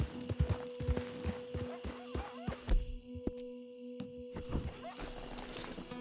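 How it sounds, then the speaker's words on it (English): Herd of horses in Red Dead Redemption 2 clip-clop with uneven hoof beats, with a brief neigh over a faint steady ambient tone. "Herd of horses over there."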